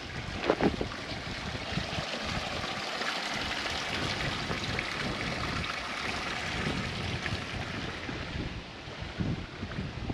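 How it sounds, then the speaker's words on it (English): Water trickling steadily from a spring at a shady oasis in the Nevada desert, heard as a constant broadband wash with wind buffeting the microphone, no voices. "That is water coming out of a spring."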